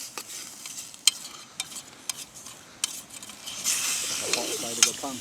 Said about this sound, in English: A nice little bit of sizzle there as it hits the sides